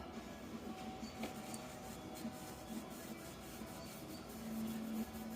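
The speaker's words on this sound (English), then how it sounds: "So I'm just trying to get all that grime off of this disc." Grime is rubbed off the contact disc of an electromechanical stepper unit from a puck bowler game, a soft, close, faint scrubbing with light scraping strokes and a few small clicks.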